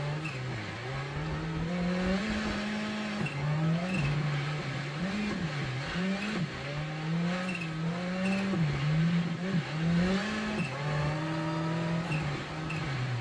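A rally car in the Assetto Corsa Rally game revs hard through a handbrake slide, engine pitch rising and dropping in repeated surges with tyre scrub underneath, loud and close with no talk.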